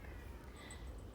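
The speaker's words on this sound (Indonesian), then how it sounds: "Ada kucing lagi berantem." Cats squabbling at a distance, a faint strained yowl rising briefly over a low steady background hum, quiet and indistinct for about a second.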